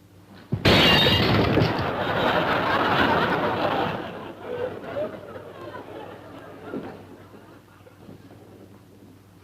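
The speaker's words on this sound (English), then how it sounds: "Did I hear breaking glass?" Glass shatters suddenly with a loud crash that trails off over several seconds, while people chatter and chuckle around it.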